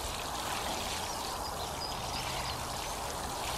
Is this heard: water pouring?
yes